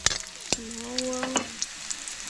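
Garlic frying in oil gives a steady, close crackling sizzle with scattered sharp pops and stirring ticks, while a short hummed, voice-like tone rises briefly over it.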